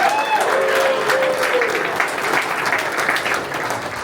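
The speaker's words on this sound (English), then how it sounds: "can I get a round of applause for Harford County being the best county in the state of Maryland?" An audience at Harford County Night in Annapolis, Maryland applauds for Harford County, a full, steady round of clapping with faint voices and a few whoops mixed in.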